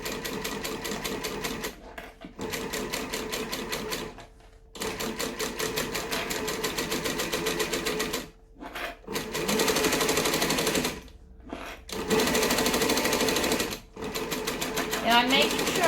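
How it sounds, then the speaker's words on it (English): Cylinder arm sewing machine stitching a business bag, fast mechanical needle chatter running in bursts with short pauses between runs, close and clear, with quiet talk in the background. "needle down, stitch, back stitch,"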